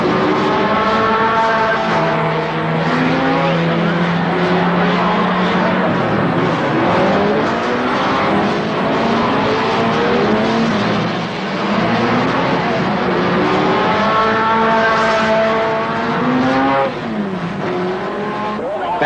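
1960 Le Mans race cars roar together through the first curve and under the Dunlop Bridge. The engines are loud and close and overlap without a break, their pitches rising and falling as the pack jostles past.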